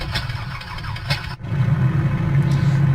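The EA-7 Edgley Optica's engine in Microsoft Flight Simulator cranks and catches after a brief gap, then settles into a steady, low, rough running drone.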